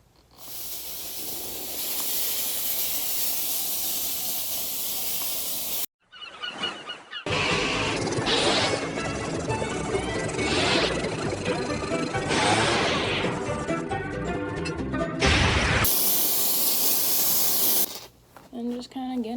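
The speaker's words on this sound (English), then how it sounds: "hot pressurized one, which looks like that." Hot pressurized steam cleaner hissing in long bursts while cleaning, a loud, breathy spray that starts and stops several times with brief gaps, and a voice speaking in between.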